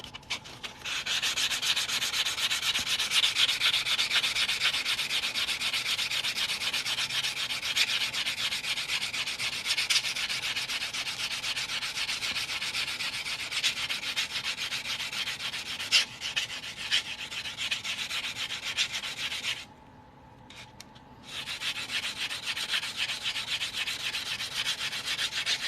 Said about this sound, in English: Now we're gonna sand this cut edge real nice.